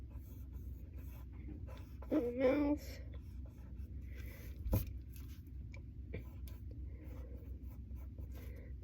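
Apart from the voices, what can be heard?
pen drawing a cat's face on paper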